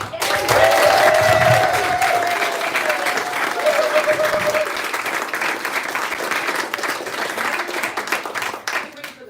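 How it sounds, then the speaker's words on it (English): Audience at a live Washington Women in Jazz show applauding Dr. Leigh Pilzer, a loud burst of clapping that slowly tapers, with a brief held tone and some voices early on. "a big round of applause to Dr."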